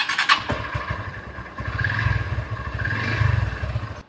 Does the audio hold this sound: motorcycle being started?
yes